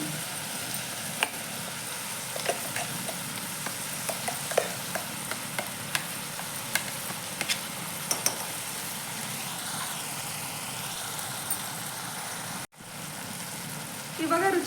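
Ground masala spice paste sizzles and fries in a pan for mutton keema, a steady close hiss with scattered clicks of stirring throughout, ending in a brief louder scrape.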